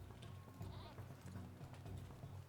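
A pony's hooves clip-clop in the video game Lord of the Rings Online, a quick, regular beat of soft thuds that continues throughout at moderate volume.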